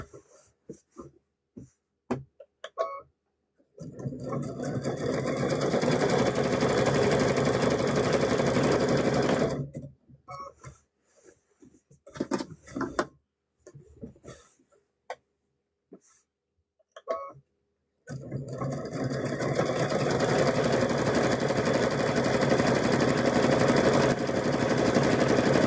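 A sewing machine stitches patchwork quilt pieces for a gnome quilt in long, steady, close-up runs, stopping for a few seconds of quiet handling clicks between two sustained bursts.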